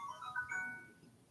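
A phone ringtone plays a faint melodic chime of tones that rise and fall, with no voices.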